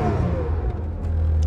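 A Radford supercar engine revs loudly and close by, a continuous throaty roar that holds steady and swells slightly toward the end.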